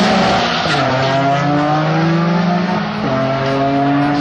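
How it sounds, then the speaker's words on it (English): A Toyota Corolla race car launches hard off the line, its engine climbing in pitch through rising revving sweeps with a brief shift and renewed climb, loud and sustained. "Holy smoke, look at that Corolla go, man. He just shot off the line like he was in a catapult."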